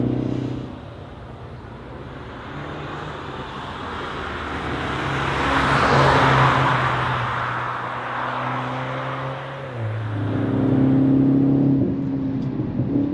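BMW M135i xDrive engine and exhaust while driving, a close rumbling drone that climbs and swells as the car accelerates, eases off, then rises again, with a whooshing road roar behind it.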